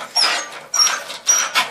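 A small dog caught by its teeth on a steel cable gives three short, high whimpers in quick succession, close and fairly loud, with faint quiet gaps between them.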